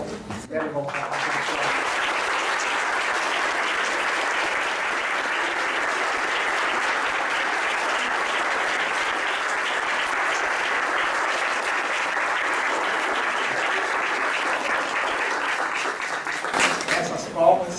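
Sustained audience applause after a lecture in a Machado de Assis talk series, a full, steady clapping wash that starts suddenly after a brief spoken moment and holds evenly, with voices surfacing briefly as it ends.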